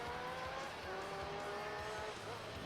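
Hard braking in Gran Turismo 3: a steady engine drone with tonal whine and a faint tire scrub, constant and moderately loud, with a voice talking softly underneath.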